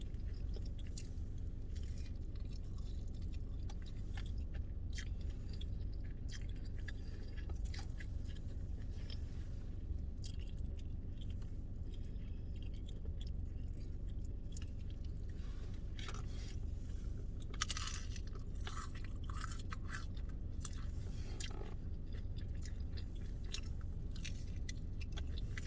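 Close, steady chewing and crunching while eating a Taco Bell Doritos Locos Taco, with repeated soft bites and squishy mouth sounds over a constant low background hum and no talking.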